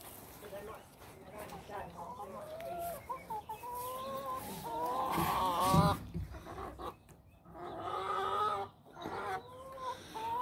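Hens cluck and squawk repeatedly at close range, with louder bursts midway and voices talking faintly underneath.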